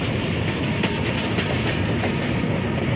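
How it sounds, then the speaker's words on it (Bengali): The Rupsha Express intercity train pulls out of Birampur railway station in Bangladesh, a loud, continuous rattle of wheels and carriages close by, with no voices. "রূপসা এক্সপ্রেস ট্রেনটি বিরামপুর রেলওয়ে স্টেশন ছেড়ে গেল"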